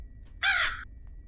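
A crow in the Granny horror game gives one loud, harsh caw lasting about half a second, clear against a low background hum.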